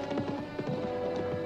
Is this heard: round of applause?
no